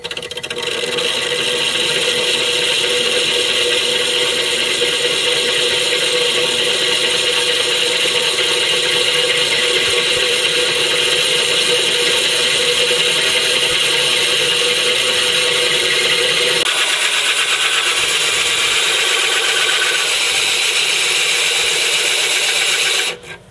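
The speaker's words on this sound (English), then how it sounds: "So you pick your spot where you're going to drill it." A continuous harsh grinding drone of a power drill boring through a tank wall, steady for a long stretch, then shifting to a thinner, higher whine near the end.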